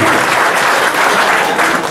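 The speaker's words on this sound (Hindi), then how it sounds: "एक बार ताली बजा के मुझे बता दें" Dense, steady clapping from an audience at a Hindi-Urdu poetry evening in Khandwa, a loud continuous wash of many hands with no voices on top.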